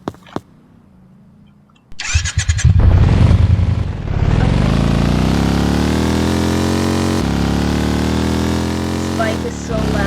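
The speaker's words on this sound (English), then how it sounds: "Bike is so loud, I can barely hear myself talk." A motorcycle engine in a video game starts with a few sharp clicks and a cranking burst, then revs up into a loud, steady droning roar that holds near and constant to the end.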